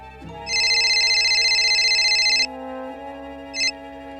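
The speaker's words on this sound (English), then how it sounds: "Yes, her phone has rung" A telephone rings loudly with one long electronic trill, then a brief second burst after a pause, over a faint background music bed.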